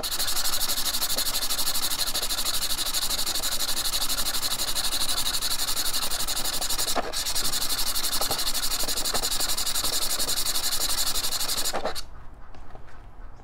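A gemstone rubbed by hand on a 200 grit diamond hone gives a continuous, harsh scraping hiss, close and even, with a brief break and a drop-off near the end.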